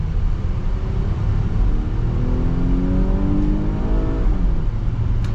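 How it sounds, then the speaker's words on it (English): A 2022 Nissan Pathfinder Platinum with a V6 and nine-speed automatic accelerates hard in sport mode, engine note rising steadily through the gears over a constant road roar, heard from inside the cabin with no talking. "So we're gonna get our acceleration here with the Pathfinder."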